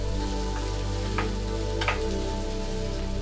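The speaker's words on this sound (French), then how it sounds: "Faire revenir l'ail et l'oignon une vingtaine de secondes." Garlic and onion sizzle steadily in a spoonful of oil in a sauté pan over medium heat, making a loud, continuous frying hiss with a couple of brief stirring clinks.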